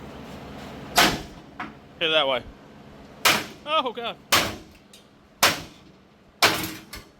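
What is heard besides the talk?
hammer knocking rivets out of a truck frame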